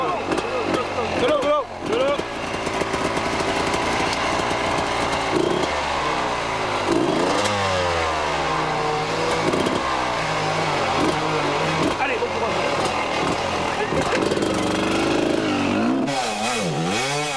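Motorcycle engines at a 1995 classic enduro race rev continuously and loudly, with repeated rising and falling throttle sweeps from several machines nearby, filling the whole stretch.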